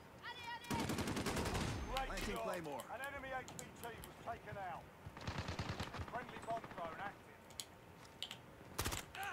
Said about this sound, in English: I shot a teammate and then got shot from the distance